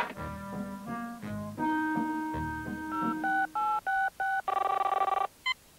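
A telephone rings with a call from a cable office: a run of electronic dial tones and beeping rings, rising in steady pulses and ending in rapid repeated chirps, clear and close with no talking.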